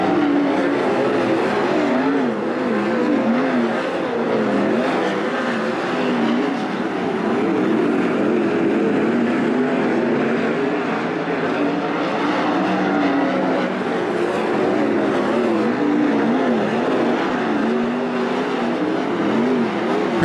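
Race cars roar around the track at Attica Raceway Park in a steady, dense wall of engine noise with revving surges throughout, loud and continuous for the whole stretch, no talk over it.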